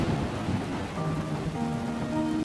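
Steady heavy rain pours down with low rolling thunder beneath it, a dense, even wash of sound with no voices, from a rainy scene in a drama.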